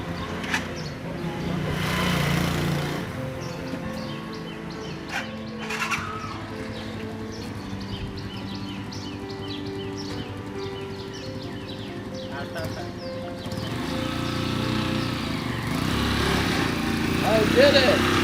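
A motorized rickshaw in Lahore putters along in gear with a steady buzzing two-stroke drone, rising toward the end, with street noise and people talking over it.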